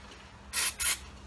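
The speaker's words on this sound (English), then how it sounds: "we'll just spray some on the towel" Two quick hissing bursts of brake cleaner sprayed onto a towel while working on a Tamiya 1/16 RC Sherman tank model, each burst short and close, separated by a brief pause.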